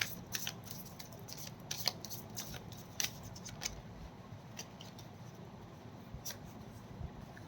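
Tarot cards are shuffled and handled close up, with quiet riffling, rustles and sharp card snaps in an irregular rhythm and no talking.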